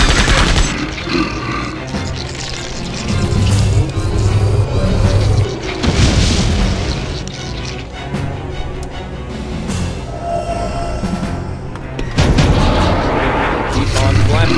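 Rapid laser blasts fire over and over in a Septerra Core battle, loud and dense, with booming hits layered under game music and continuing for the whole stretch.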